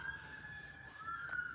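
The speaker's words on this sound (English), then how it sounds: "These sirens should have been passed by now." A siren wail rises and sweeps steadily from a passing emergency vehicle, heard at moderate distance, with a faint, distant quality and no talk.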